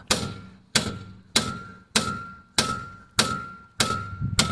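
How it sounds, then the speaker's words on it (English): A hammer strikes the top section of a car's front suspension strut again and again, with seven sharp metallic clangs at a steady rhythm, each ringing briefly before fading, close and loud with no talk. "we can hit the top section of the strut here and try and push it back up"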